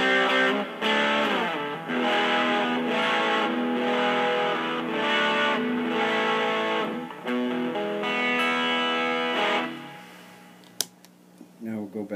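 Electric guitar played through a high-gain 1980 MXR Distortion Plus pedal, a sustained run of loud, dense distorted chords and notes lasting about ten seconds, then cutting off into quiet with a few faint clicks.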